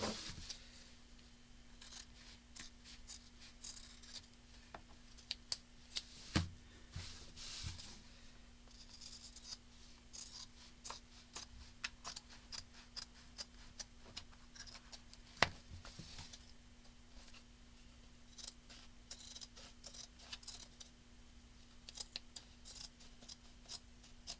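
Paper pages of a composition book journal being trimmed: faint, quiet snips and small ticking cuts repeat irregularly over a low steady hum, with one sharper click partway through.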